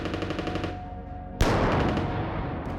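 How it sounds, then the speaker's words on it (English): Machine gun fire from the ruins of a farmhouse in a wartime battle scene, a sustained rattling burst with a sharp loud blast partway through, continuing as dense gunfire with no talk. "A machine gun opened up on us from the ruins of a farmhouse"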